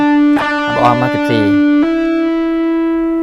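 Electric guitar with distortion plays a Thai pop solo phrase, sustained buzzy notes with bends and slides, loud and close, with a voice speaking briefly over the opening notes.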